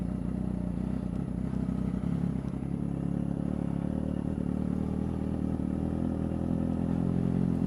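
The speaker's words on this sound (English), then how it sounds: "Give her a start. Ooh, exhaust." A Kawasaki ZX6-R 636 motorcycle with an M4 exhaust and Power Commander starts and settles into a steady, close, loud idle rumble that holds evenly throughout, with no voices.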